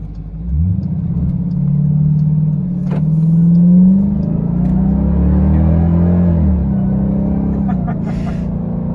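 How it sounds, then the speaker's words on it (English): 2021 Dodge Durango Hellcat with a rising supercharger whine over a deep exhaust roar as the engine revs and pulls, loud and close, with tonal sweeps climbing and easing off. "Got that wonderfully sinister sort of alien supercharger whine there."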